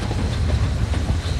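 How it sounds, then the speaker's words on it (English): Steam train on the Zig Zag Railway in the Blue Mountains, New South Wales, rolling along after crossing a stone viaduct: a steady, close rumble with rhythmic clickety-clack of wheels over rail joints and no voices. "After crossing number 1 viaduct, the train continues along Top Road to the first reversing station known as Top Points."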